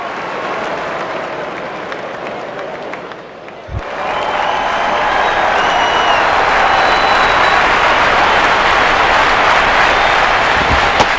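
Stadium crowd in the baseball video game MLB 09: The Show, a loud steady roar that dips briefly and then surges back to a constant wash of noise, with commentary voices underneath.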